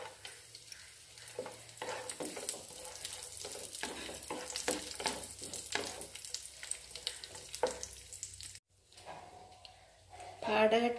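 Nuts and raisins sizzle steadily in hot fat for navara rice payasam while a spoon stirs them with soft scraping, a voice speaking over the cooking and a louder clatter near the end.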